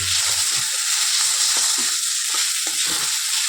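Chow mein noodles fry in a home kitchen pan with a loud, continuous sizzling hiss and soft stirring scrapes, close up and without talk.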